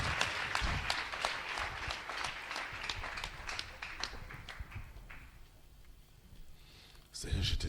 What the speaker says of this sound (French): Acclame le Saint-Esprit.